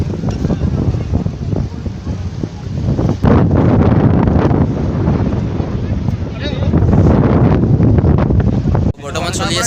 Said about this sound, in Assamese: আৰু বতাহ কিন্তু তামাম বতাহ লাগি আছে, তামাম বতাহ।